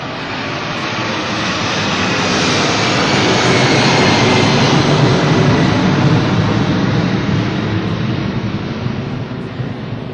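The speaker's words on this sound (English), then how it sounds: "It's a big airplane." A large airplane passes overhead during a Flag Run conclusion ceremony at Dockweiler Beach, giving a loud, steady jet roar that swells in over the first couple of seconds and fades slightly near the end, with no talking.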